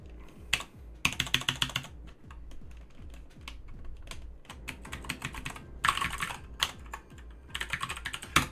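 Computer keyboard being typed on quickly while coding in JavaScript and Python, dense clicking bursts separated by short gaps, close and fairly loud with no one speaking.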